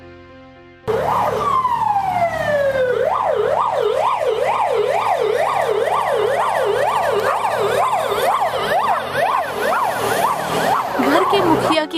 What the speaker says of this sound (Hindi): अब एम्बुलेंस भी आ गई।